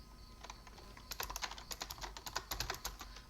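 Quick bursts of keystrokes on a computer keyboard while a terminal command is entered during an Arch Linux setup, uneven clicks clustering and speeding up, close and fairly quiet with no talking.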